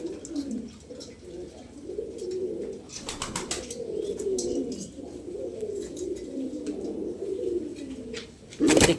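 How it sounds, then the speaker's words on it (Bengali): Healthy pet pigeons coo in soft, repeated throaty rolls close by, overlapping one another in a continuous low murmur, with a few light taps and a flutter-like burst near the end. "প্রত্যেকটা এই পায়রা দেখেন,"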